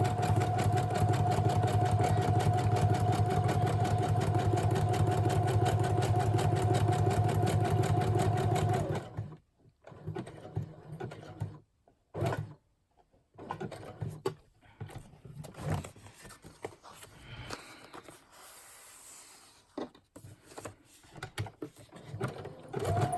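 A sewing machine stitches a craft tag in a steady, close, whirring run for about nine seconds, then stops and restarts in short bursts and single stitches with pauses between.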